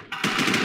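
Rapid automatic gunfire in the online shooter War Inc Battle Zone, a dense burst of repeated shots that starts a quarter second in and carries loud and close to the end.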